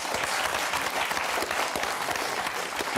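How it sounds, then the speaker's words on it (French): Studio audience on a French Christmas special of the game show Motus applauds the contestants, a dense, steady burst of many hands clapping at close range throughout. "On va t'applaudir très fort, Rémi, Patricia"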